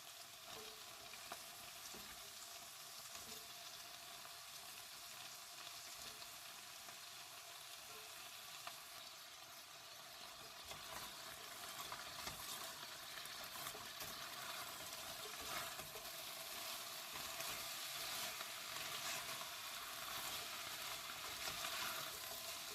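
Fresh green beans tipped onto meat in a pot and stirred, with a steady soft sizzle of frying and faint scraping of the spoon throughout, quiet and close.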